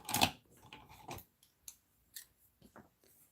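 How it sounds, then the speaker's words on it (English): Scissors trimming a paper card during a craft session: a sharp cutting snip at the start followed by a few sparse, quiet snips and small paper ticks spread through an otherwise quiet room. "And then let me get my scissors."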